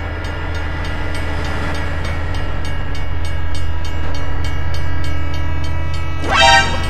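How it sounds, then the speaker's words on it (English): A train rolls past with a loud, steady rumble and a tonal drone throughout, ending in a short, rising horn-like blare. "god, train!"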